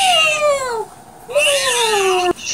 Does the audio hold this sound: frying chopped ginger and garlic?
no